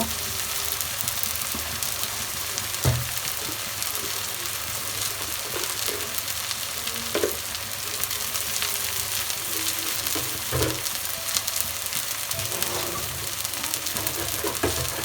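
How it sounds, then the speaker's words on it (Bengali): Spice paste for khichuri frying in a pan makes a continuous hiss of sizzle, with occasional scrapes and knocks of stirring throughout and no voices. "ভালোভাবে মশলাটা কষিয়ে নেব"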